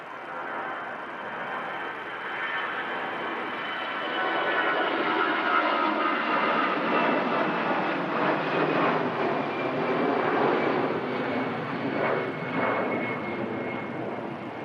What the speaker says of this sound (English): Aer Lingus Retro climbs out.